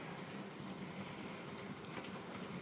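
Model trains running together on a large multi-level loft layout, a steady close rumbling clatter of wheels on track with faint squeals, continuous and without talk.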